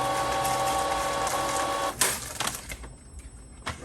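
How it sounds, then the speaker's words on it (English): A sublimation printer feeding premium matte paper runs with a steady mechanical whir and hum for about two seconds, then falls into softer intermittent clicks and a brief closing burst. "I'm just going to go continue printing"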